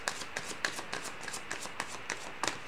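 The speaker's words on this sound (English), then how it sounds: "I think I am going to go ahead and pull a Romance Angel card here." A deck of Romance Angel oracle cards is shuffled by hand, with about ten soft, evenly spaced riffling bursts heard close up against faint room tone.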